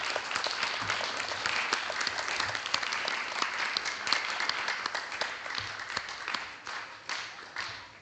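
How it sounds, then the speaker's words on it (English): An audience at a primary schools quiz claps for the students, dense steady applause filling the room that fades slightly toward the end. "give all of our students here a round of applause"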